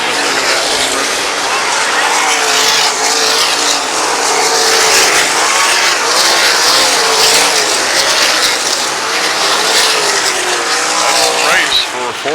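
Race cars roar around the dirt oval at Oskaloosa Raceway, engines droning steadily and loud for the whole stretch, pitch rising and falling as cars pass, with a commentator talking over the noise.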